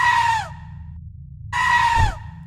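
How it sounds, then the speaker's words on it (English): Gargoyle tied up in a net screaming, two loud shrill wails with falling pitch separated by a short pause, the second ending in a low thump. "It's now lying on the floor, tied up in the net, screaming."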